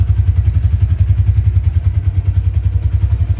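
A Honda Tiger Revo motorcycle idling, its engine and exhaust giving a loud, close, steady low thumping pulse with a regular lumpy rhythm throughout.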